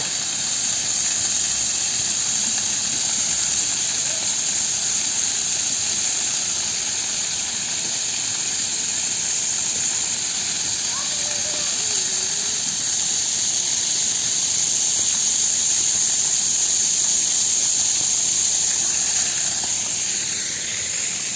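Water sprays steadily from among plants into a swan pond at a bird park, a continuous close hiss holding even throughout with no talk.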